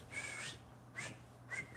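Three short, clear whistled notes, spaced apart, fairly close and quiet, alone without talking.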